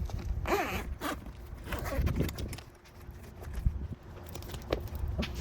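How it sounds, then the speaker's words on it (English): Zipper on a Jeep Wrangler TJ soft top being pulled open, a series of close, scratchy zips with short pauses, plus some handling knocks and rustle of the fabric. "There's a zipper under here."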